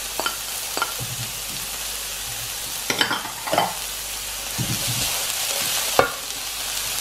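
Dwarf beans being stir-fried with salty tuna and capsicum in a pan, with a steady sizzle broken by several bursts of stirring and scraping, close up and alone.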